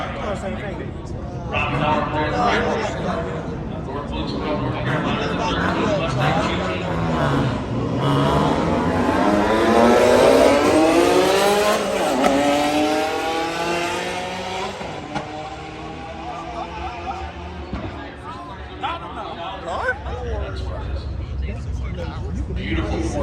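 A BMW M5 runs on a race track, its engine note climbing and falling through gear changes and pulling hard in the middle, with a constant cabin drone and someone talking over it throughout.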